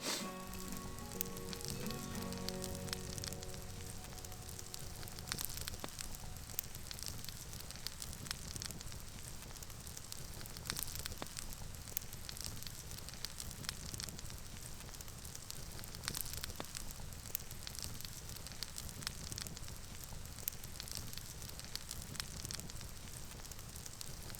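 A small campfire burns under a campfire oven at a snowy winter camp, giving a steady, close crackle and hiss with scattered sharp pops throughout, alone with no talk.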